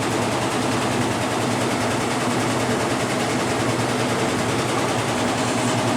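A loud, steady mechanical rumble with a low churning drone, continuous and unbroken, from a 1996 Maytag Dependable Care Plus top-load washing machine on a regular cycle, running close by.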